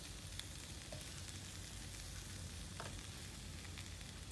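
Bok choy seasoned with black pepper and salt cooks in a pan with a soft, steady sizzling hiss and a faint stir or two. The sound is quiet and close, with no talking.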